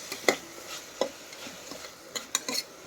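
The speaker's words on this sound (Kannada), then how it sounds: "ರುಬ್ಬಿಟ್ಕೊಂಡಿರೋ ಈರುಳ್ಳಿ ಮತ್ತು ಕ್ಯಾರೆಟು ಮತ್ತು ಸಣ್ಣದಾಗಿ ರುಬ್ಬಿಟ್ಕೊಂಡಿರೋಂಥ ಆಲೂಗಡ್ಡೆನ ಹಾಕಿ ಒಂದು 2 ಮಿನಿಟ್ಸ್ ಅದನ್ನ ಫ್ರೈ ಮಾಡ್ಕೊತೀನಿ" Ground onion, carrot and finely ground potato fry in a pan, with soft intermittent sizzling broken by clinks and scrapes of a spoon stirring against the metal.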